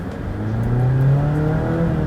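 A 2020 Jeep Compass Limited compact SUV engine revs up from low to higher pitch as it accelerates from a stop, a loud, steady mechanical drone building smoothly, heard from inside.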